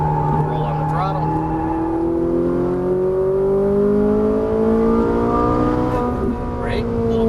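A Ferrari 458 Italia's engine roars loud and close, its pitch climbing steadily as the car accelerates around a racetrack in Las Vegas, with a voice occasionally heard over it.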